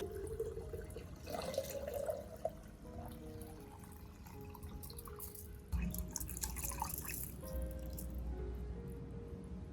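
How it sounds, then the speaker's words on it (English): Rice-soaked water being strained and poured gently at the base of a potted orchid, soft close dripping and trickling with small splashes and faint handling noises. "After steeping, I'll filter out the rice and use the water to water the plant's base."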